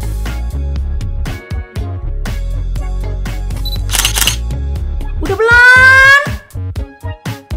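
Several quick, sharp camera shutter clicks snap while photographing a corn dog recipe, set over upbeat background music with a short sweeping sound effect.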